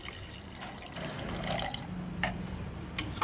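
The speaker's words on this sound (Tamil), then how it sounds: "அந்த கொண்டக்கடலையில் இருக்க தண்ணியையும் ஜாரில் போட்டு அதையும் கலக்கி ஊற்றிக்கிறோம்" Chickpea cooking water, swirled in a jar, is poured into masala, giving a continuous splashing, liquid pour with faint clinks, close and moderately loud.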